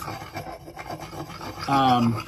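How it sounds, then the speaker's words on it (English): An axe blade rubbed on a Belgian Blue whetstone, a close, scraping rasp in short strokes that swells into a louder, sustained grinding pass near the end. "these 2 grits alone will sharpen your axe to a razor edge"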